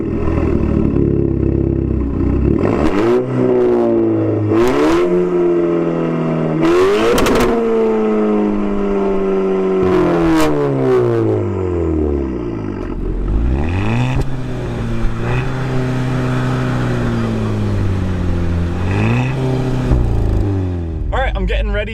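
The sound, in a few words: Volkswagen GTI with DSG accelerating 0 to 60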